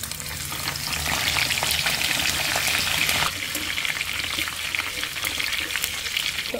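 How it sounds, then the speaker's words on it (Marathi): Green chillies frying in hot oil for a festive Diwali chivda, a loud continuous crackling sizzle with stirring scrapes that briefly intensifies before settling to a steady hiss. "आता आपण या तेलात मिरची तळून घेऊ।"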